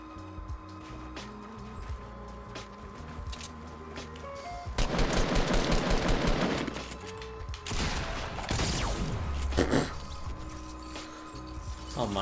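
Shotgun blasts in Fortnite Battle Royale, loud sharp reports amid mechanical clicks and rattling game effects, with someone talking over the gameplay throughout.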